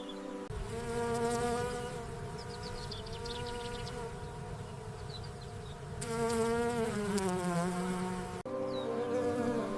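Bees buzzing in the wild: a continuous, close, droning hum with a clear steady pitch that shifts slightly as insects move, sustained throughout with no talking.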